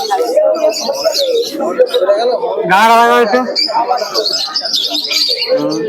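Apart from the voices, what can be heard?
pigeons cooing at bird market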